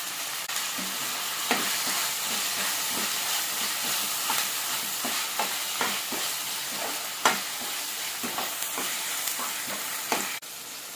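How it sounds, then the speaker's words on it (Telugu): Chopped tomatoes sizzle and fry steadily in a pan while cooking a ridge gourd curry, with a continuous hiss broken by scattered soft clicks of stirring, close and moderately loud, no voices. "ఇందులోనే కట్ చేసి పెట్టుకున్నటువంటి టొమాటోస్ వేసుకోవాలి"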